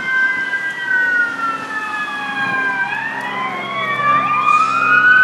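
An ambulance siren wails close by, its pitch sweeping up and down while engine and traffic noise rumble beneath.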